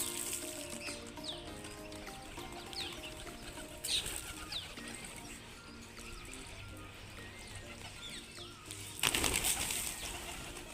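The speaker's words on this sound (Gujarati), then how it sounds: "અત્યારે કબૂતર ચણ ખાય છે" Pigeons feeding on scattered grain nearby, with soft cooing, scattered pecking and occasional bursts of wing flapping over a steady low background hum; a louder flutter of wings near the end.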